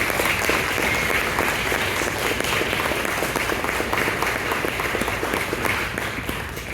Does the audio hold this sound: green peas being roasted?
no